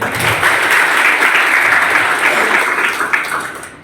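An audience at a career guidance and competitive exam seminar claps together in a loud, dense burst that holds steady for several seconds and then tapers off.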